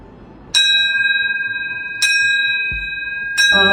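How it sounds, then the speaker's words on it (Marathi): A new temple bell in a home shrine rings three times, each strike clear and loud, with long bright ringing tones that slowly fade between strikes. "माझ्या मंदिरामध्ये नवीन घंटा बसवली आहे आणि तिचा घंटाचा नाद मी तुम्हाला नंतर ऐकले तर जरूर ऐका"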